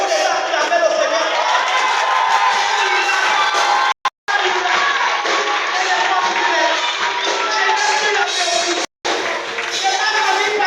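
Congregation at a French-speaking church service cheering and acclaiming the Lord: a loud, sustained crowd roar of shouts and cheers, cut by two brief silences, with voices mixed into the din.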